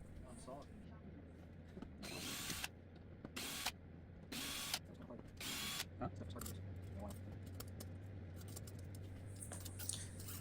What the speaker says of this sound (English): In case you're wondering about us using a drill for attaching the neck, we are setting it to a very low torque